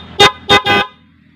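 Three loud, blaring honks from a snail horn on a vehicle come close together, two short blasts and a longer one, then silence.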